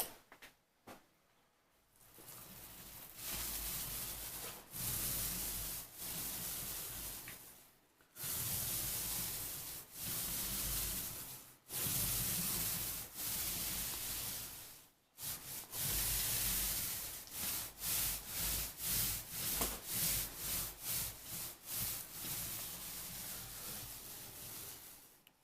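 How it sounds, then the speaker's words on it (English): Palm tree leaves rustle loudly outdoors in dense, broadband bursts that rise and fall for about 25 seconds, broken by a few brief lulls, with steady surges like gusts of wind through the fronds. "Those palm leaves are really loud outside from the palm tree."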